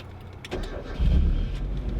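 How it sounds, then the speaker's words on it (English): A manual-transmission car engine cranks and catches during a driving lesson, the starter whirring briefly before the motor rumbles to life and settles into a steady, close idle. "And just start the car again."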